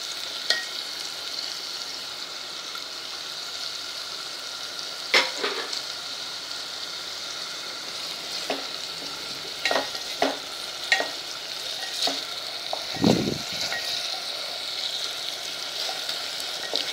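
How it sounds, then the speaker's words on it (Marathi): Onion and curry leaves sauté in a pan for a field bean curry, giving a steady hiss of sizzling with scattered crackles and spatula clinks. A heavier scrape or stir comes near the end, and no one talks. "आता यात घालूया कढीपत्ता आणि कांदा. आणि कांदा लाल होईपर्यंत छान परतून घेऊया."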